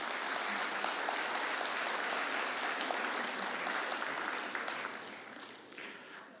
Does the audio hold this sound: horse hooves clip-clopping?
no